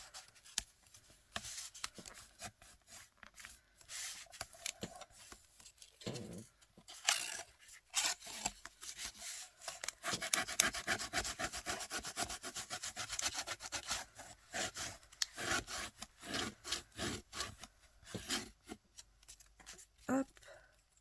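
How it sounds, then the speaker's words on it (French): Paper being pressed and rubbed by hand to crease folds and glue down a pocket on a 15x15 scrapbooking folio, close rustling and scraping in irregular bursts under intermittent talk. "le but, ça va être de venir appuyer pour bien former nos plis et en même temps pour bien coller la pochette"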